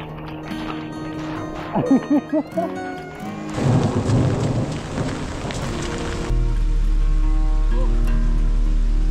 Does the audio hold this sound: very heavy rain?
yes